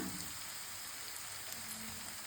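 Onions frying in a pan sizzle with a steady, soft, hissing crackle that runs unbroken throughout, fairly quiet and close, with no voices over it.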